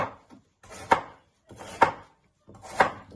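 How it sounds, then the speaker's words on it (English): Peeled potatoes are diced into cubes with a knife, three evenly spaced, crisp chops landing on a cutting board close up, each with a short slicing lead-in. "And just chop them into cubes."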